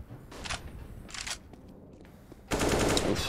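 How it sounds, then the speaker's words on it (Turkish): Counter-Strike gunfire during an IEM Dallas 2022 qualifier match, with two short bursts of shots, a quieter pause, then a louder sustained volley of fire toward the end. "Zix'ten güzel headshot."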